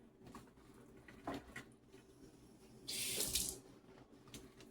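A kitchen faucet is briefly opened to wet the bottom of a spoon, a short, loud hiss of running water in the middle amid faint clinks and room noise, with no talk.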